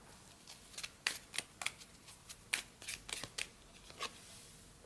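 Tarot cards are shuffled close up in quiet, a string of soft crisp riffling snaps and slides at irregular intervals.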